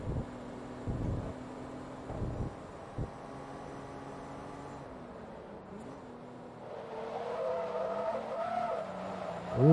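A rear-wheel-drive car drifts in Forza Motorsport 2 at the Proving Grounds, with the engine droning, a few thumps early on, and tires squealing in wavering tones toward the end.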